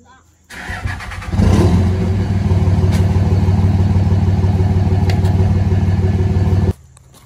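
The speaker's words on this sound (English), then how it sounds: "Big old truck." A big old truck engine idles and rumbles steadily at close range, starting up after a short quiet moment and holding a loud, even low drone for several seconds before cutting off.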